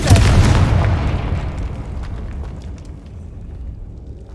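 Confringo spell explosion in Hogwarts Legacy, a loud deep boom at the start that rumbles and slowly decays over a few seconds, alone without talk.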